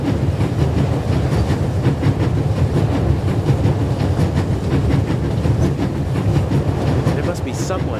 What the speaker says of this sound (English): The coal car and an old-fashioned steam engine are in front of it.